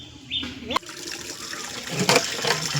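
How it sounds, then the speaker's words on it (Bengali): Water runs from a pipe into plastic bottles, a gushing, rising fill with gurgles and a plasticky knock, close and moderately loud with no talk. "এই যে বোতল পুরে নিচ্ছি"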